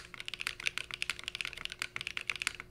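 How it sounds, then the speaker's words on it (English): Rapid typing on a Cycle 8 mechanical keyboard, gasket mounted with a PC plate, no foam, iced chain doll switches and GMK Lime keycaps: a quick, dense run of close, clacky keystrokes with a faint steady hum beneath. "So this is the Cycle 8 iced chain doll switches and the bean gasket mount right here with GMK lime on a PC plate,"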